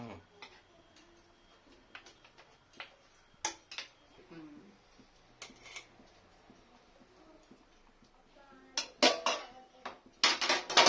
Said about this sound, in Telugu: అడుగు అంటకుండా కలుపుకోవాలి